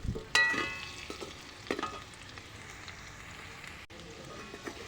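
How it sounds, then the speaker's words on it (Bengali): Potatoes fry in a pan on a rooftop with a soft, continuous sizzle, broken by a few sharp clinks and stirring knocks near the start, close but fairly faint. "আলুটাও প্রায় ভাজা হয়ে এসছে।"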